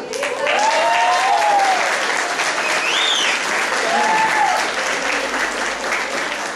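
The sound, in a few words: applause in a church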